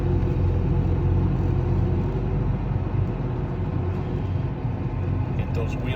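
Tractor running near and steady with a corn planter being folded out, a continuous low rumble with faint clanks toward the end.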